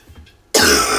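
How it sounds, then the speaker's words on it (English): A single sharp cough from a person who is unwell bursts in halfway through, loud and close, after a quiet stretch of faint room sound. "I'll try not to cough too much."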